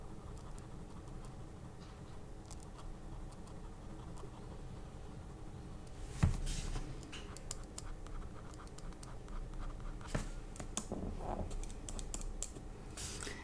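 Ballpoint pen scratching across paper while drawing fur texture on an animal's head, a steady faint scribbling with soft strokes throughout and a brief louder scrape partway in, no voices.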